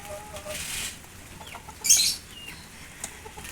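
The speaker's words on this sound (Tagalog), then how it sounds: "so ayan tsaka nga kay mga manok mga inahin magagandang klaseng inahin" A hen gives a few soft clucks at moderate distance, with a brief flutter of wings and quiet outdoor background noise.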